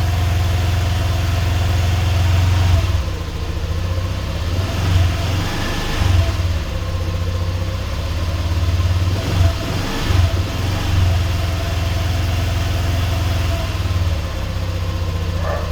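A motorcycle engine idling just after starting following 45 days unused, a loud steady low rumble held close up, with a couple of slight throttle blips in the middle and no talk.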